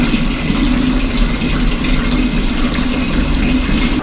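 Water rushes steadily through the cooling chamber of a distillation machine for bio-energy fuel, a loud, even, close hiss with no breaks and no speech.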